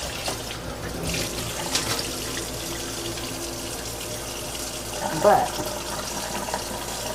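Tap water runs steadily into a kitchen sink while mustard and turnip greens are being washed, a continuous splashing hiss with a brief louder splash near the end; a person speaks briefly over it.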